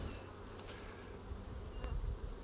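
A steady, dense buzzing of many honeybees on a hive frame fills the clip, close and continuous at a soft level, with no talking.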